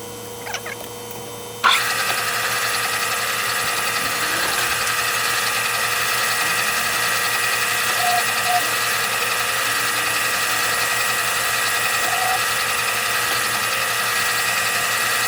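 Metal workpiece being parted off on a lathe, a steady mechanical whir and scraping cutting tone that starts abruptly after a short quiet moment and holds evenly throughout, close and fairly loud.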